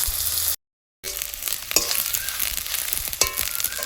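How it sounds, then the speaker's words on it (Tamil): Chopped onions sizzle in hot oil in a pan while being stirred, a close, steady crackle broken by a brief silent gap near the start. "இப்போ அடுத்து வெங்காயத்தை போடுறோம்."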